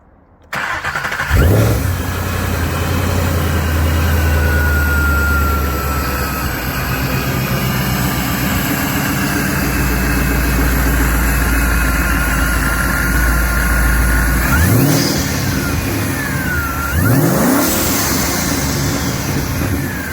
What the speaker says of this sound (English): We have a 2012 Mustang GT with a Lund Racing Fluid Twin Turbo kit.